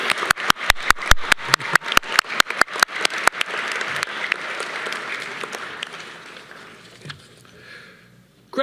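Graduation commencement audience at a university neuroscience ceremony begins with a few sharp, distinct claps that quickly swell into dense, sustained applause, then gradually thins and fades out, heard fairly close with no talk over it.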